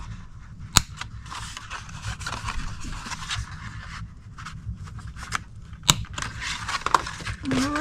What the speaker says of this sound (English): Now we want to round the corners of this top flap.